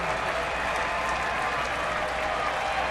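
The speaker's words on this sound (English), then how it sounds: "they will stand and cheer him to the dugout once again." Stadium crowd at a Baltimore Orioles at Kansas City Royals baseball game applauding and cheering as a pitcher walks back to the dugout, a dense, steady roar of clapping heard from a distance.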